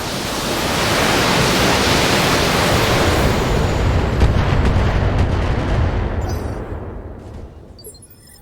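A mech weapon fires in BattleTech, a broad roaring blast of noise that swells and holds loud for several seconds before slowly tailing off, with faint crackles near the end.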